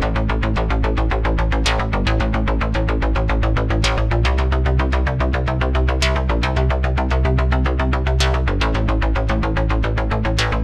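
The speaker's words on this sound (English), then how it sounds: "So this is my main bass line." A main synth bass line for EBM industrial music pounds out a steady, dense rhythmic riff with heavy low end, loud and continuous without any voices.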